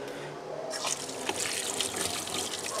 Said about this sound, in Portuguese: Aqui, lavar ele bem.